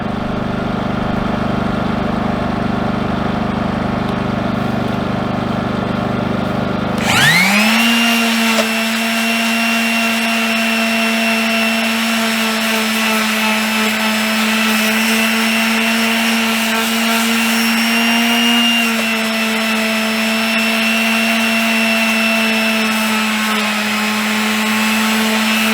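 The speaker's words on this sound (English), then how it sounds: "I'm gonna sand a little bit of the paint as well while I'm here" A power sander whirs steadily on the painted body of a skoolie school bus conversion, starting abruptly after a quiet stretch and then running loud and continuous with a sustained motor whine and a few brief pitch dips.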